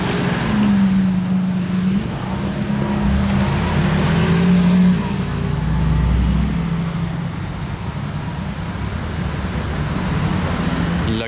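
Lamborghini Countach hybrid driving through a Paris street, its engine a steady low drone blended with surrounding city traffic noise throughout, with a faint voice in the background.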